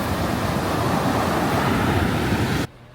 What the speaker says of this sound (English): there's some pretty big waves on the shore here